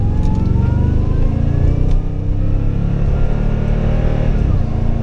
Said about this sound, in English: let's see if the supercharger's still doing its thing